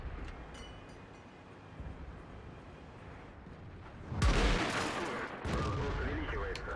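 In World of Tanks on a winter Himmelsdorf map, a tank fires a high-explosive shell with one loud, sharp blast followed by a rumbling decay and a second impact, set against quieter battle ambience.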